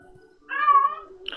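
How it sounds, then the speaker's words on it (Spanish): A domestic cat gives a single clear, fairly close meow lasting about half a second, followed by a brief higher squeak-like sound. "¿Ese es un gato?"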